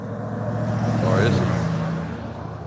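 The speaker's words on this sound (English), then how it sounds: "And there's like so many cars." Dense road traffic with many cars, a steady roar of engines and tyres close by, swelling midway as a vehicle passes, with a voice partly audible over it.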